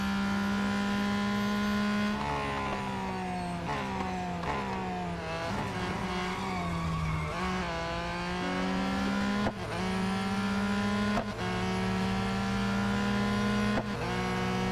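Racing car engines in Real Racing 3 rev steadily and loudly throughout, with pitch climbing and dropping through gear changes and a few sharp shifts, close and continuous with no talking.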